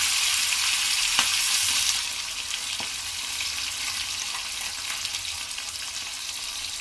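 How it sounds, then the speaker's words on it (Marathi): Green chillies and tomato dropped into hot oil for a dal tadka give a loud, bright sizzle that eases slightly after the first couple of seconds, then keeps crackling steadily up close, with a few faint clinks of stirring. "तडक्यासाठी मिरची घालणार आहोत, थोडंसं टोमॅटो घालणार आहोत"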